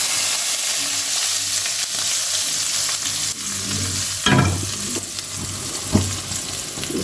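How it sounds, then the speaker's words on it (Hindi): Cumin seeds sizzle in hot oil as a tempering for creamy potato kofta curry, a steady hiss with a few louder scrapes of stirring near the end and no voices. "जीरे का मैं तड़का साथ दूंगी"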